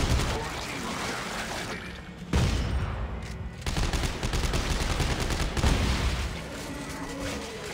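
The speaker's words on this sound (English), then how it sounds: "That shotgun has range" Heavy shotgun blasts boom in Dead Space 3 over a loud, dense wash of combat noise, with a couple of sharp, prominent shots standing out amid sustained firing.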